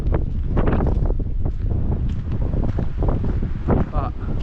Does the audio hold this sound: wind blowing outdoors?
yes